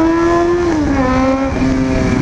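A Honda Hornet motorcycle engine revs loudly and close by, a steady high droning tone that dips slightly in pitch partway through, then holds and settles.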